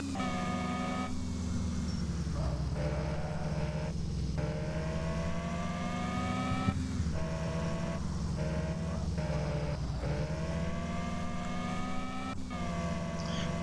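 A car engine drones steadily in Car For Sale Simulator, a sustained tonal hum that rises and falls with gear changes and revs, loud and alone for the whole stretch.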